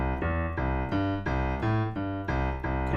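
Boogie woogie piano played in an even, straight rhythm rather than swung, a steady run of repeated chords and a rolling bass line, loud and close, with no voice over it.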